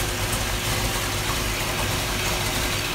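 A swapped car engine idles steadily and quietly after a rebuild, a continuous low rumble with no lifter tapping, filling the whole stretch without talk.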